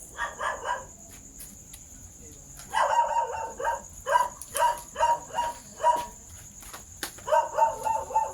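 Dogs bark in short, repeated bursts with brief pauses between volleys, fairly close and moderately loud, with no talking.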